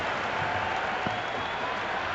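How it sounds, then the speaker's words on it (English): A stadium crowd at a cricket match in the game Cricket 26 roars steadily, a dense, even wash of cheering and applause with no break, no clear single voice standing out. "The crowd is electric right now."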